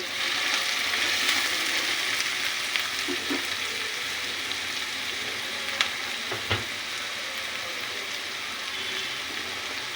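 Onions and green chillies fry in a pan, giving a continuous close sizzle with a few scattered taps and scrapes of a spoon, steady throughout.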